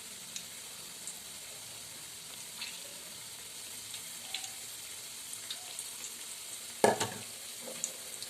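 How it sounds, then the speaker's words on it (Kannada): Ridge gourd bajji fritters deep-fry in hot oil with a steady, even hiss of fine crackling bubbles, close and continuous, broken by a brief louder splutter near the end. "ಎಣ್ಣೆಯಲ್ಲಿ ಫ್ರೈ ಮಾಡ್ಕೋಬೇಕು, ಡೀಪ್ ಫ್ರೈ"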